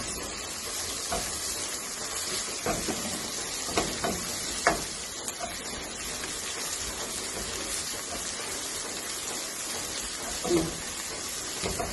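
Onions frying in a pan with crushed ginger and garlic, a steady close sizzle with a few soft stirring knocks, no voices.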